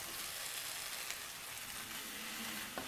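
Sliced mushrooms hitting a pan of hot Chettinad masala sizzle and fry with a steady, soft hiss, with a faint stir or clink near the end.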